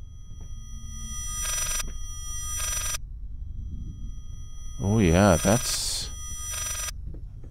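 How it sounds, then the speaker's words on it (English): A shrill electronic phone ringtone warbles in short bursts in the Layers of Fear video game, loud and close over a low ambient hum, while someone talks briefly. "that's a very annoying ringtone"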